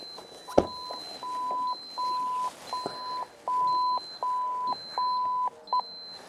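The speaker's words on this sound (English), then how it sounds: "you'll hear it beeping and you'll see it flashing on the switch here" OLAS Guardian tag on a boat beeping while not yet connected: a steady series of short, clear electronic beeps repeating about twice a second, loud and close with no talk over it.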